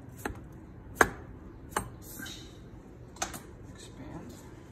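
Sourdough bread dough scored with a blade, a few sharp, close slicing clicks spaced irregularly over a quiet background.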